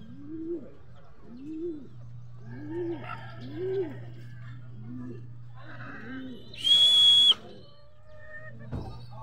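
Racing pigeons entered in a three-lap sprint race give a run of soft, repeated coos at a steady rhythm over a low constant hum, with a brief brighter tonal chirp near the end.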